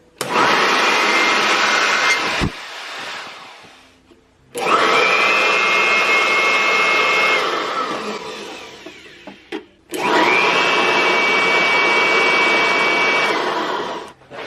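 A miniature leaf blower's small motor whines loudly in three long bursts, each spinning up, running steadily for a few seconds, then cutting off.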